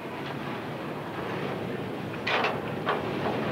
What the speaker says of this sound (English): We would like for all cars that are switched into our classification yard to go down and couple on to the car that's north of it